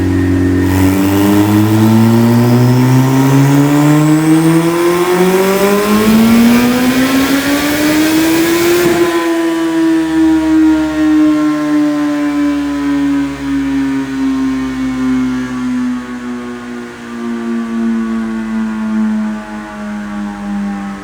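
A turbocharged Suzuki Hayabusa motorcycle engine run hard on a dynamometer, rated around 600 hp. It screams upward in one long, loud rev, then drops off sharply and winds down through a gradually falling whine.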